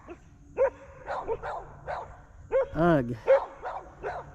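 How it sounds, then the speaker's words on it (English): Neighborhood dogs bark back and forth across a bass-fishing lake, sharp bow-wow barks and yips coming in scattered bursts at middling distance, with a brief grunt from a person near the microphone. "Hopefully they just bark at each other from opposite lake shores."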